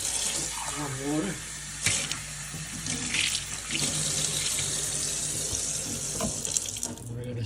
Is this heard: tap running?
yes